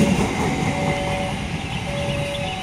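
A commuter train rumbles steadily past nearby in Indonesia, wheels clattering on the rails under a sustained tonal hum, loud and continuous throughout.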